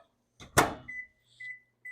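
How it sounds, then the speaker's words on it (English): Microwave oven heating melting wafers, with a sharp door or button clack followed by short electronic beeps and a low hum, quiet and close with pauses between. "I'm going to microwave them for 30 seconds at a time"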